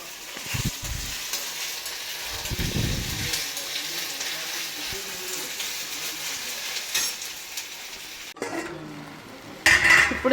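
Onions with ginger-garlic paste and coriander fry and get stirred in a pan, giving a steady close sizzle with scrapes and clinks of a utensil against the pan throughout.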